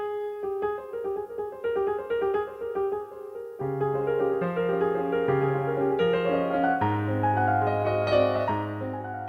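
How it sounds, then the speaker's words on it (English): Chopin's Minute Waltz played on piano, a quick flurry of running right-hand notes over a lilting low accompaniment that thickens midway, played clearly with no voices. "an example of this that we're going to listen to really quick is Chopin's Minute Waltz"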